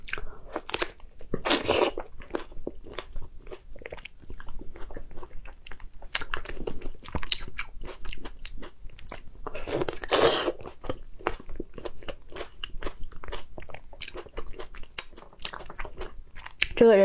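Pepino melon, also called ginseng fruit, being chewed and crunched at close range in a late-night eating session, with steady wet bites and crunches and a few sharper louder bursts, no talking.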